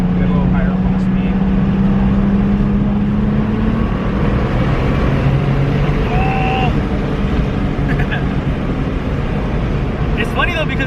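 A turbocharged Nissan 350Z accelerates in third gear, giving a steady, fairly quiet engine drone with a faint rising tone. People talk over the sound throughout.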